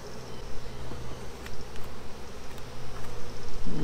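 Honeybees buzzing around a new beehive, a steady close hum with individual bees droning past, rising and falling continuously with no talking.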